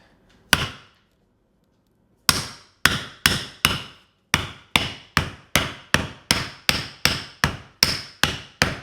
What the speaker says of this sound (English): you use this freaking beautiful mallet and you do not hold back